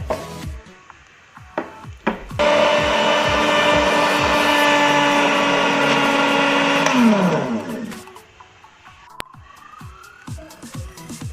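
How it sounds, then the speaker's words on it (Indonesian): A blender whirs steadily for about five seconds, grinding spice ingredients into a paste for Mie Aceh seasoning, then spins down. Shorter knocks and handling clatter come before and after. "Ini semua bahan-bahan yang akan kita blender, kita jadikan bumbunya."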